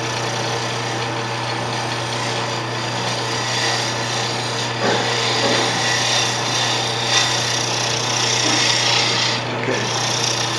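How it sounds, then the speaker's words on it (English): A skew chisel held on edge scrapes a spinning wooden pen blank on a lathe, making a continuous rasping, scratchy hiss over the steady motor hum, close and fairly loud throughout. "take a scraper, just a skew on edge works fine, and just kind of make it so it's nice and uniform"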